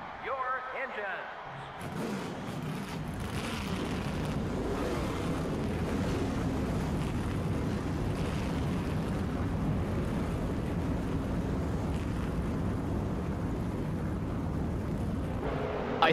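Race car engines in NASCAR Thunder 2000 fire up together after a short opening, then hold a loud, steady roaring rumble right to the end.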